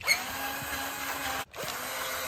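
A power drill runs steadily during a pull-up bar installation, a continuous close whirring motor that cuts out briefly for a moment and then resumes at the same level, with no talking.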